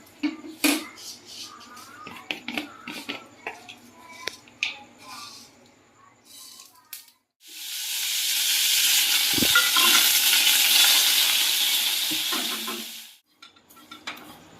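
Scattered clinks and stirring of utensils, then a loud burst of hissing sizzle as mustard seeds, curry leaves and dried chillies hit hot oil, lasting several seconds before fading.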